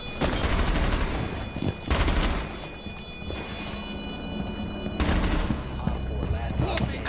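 Gunfire in the tactical shooter game Rainbow Six Siege: dense, loud bursts of automatic fire that come in several waves, heard under excited shouting from players.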